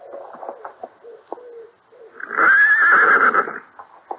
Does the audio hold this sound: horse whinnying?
yes